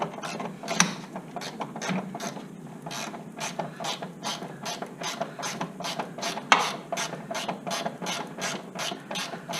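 Steady rapid ratchet clicking while a bolt is removed from the front strut assembly of a 2007-2011 Honda Accord, close and continuous with a regular rhythm and no speech.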